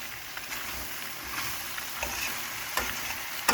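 Matzo brei fries in a pan, giving a soft, steady sizzle with faint stirring scrapes and occasional light clicks of a utensil.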